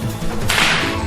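A whip cracks once, the tip breaking the sound barrier in a sharp, loud snap that bursts across the upper range and stands alone, without voices.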